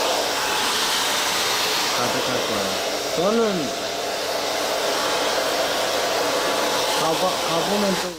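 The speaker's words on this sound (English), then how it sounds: "Interesting decision to film an interview while he's getting a hairdryer on him." A hair dryer blows steadily and loudly throughout, with faint voices talking underneath.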